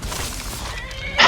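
A horse in the Skyrim game gives a short whinny that swells at the very end, over a steady wash of ambient game noise.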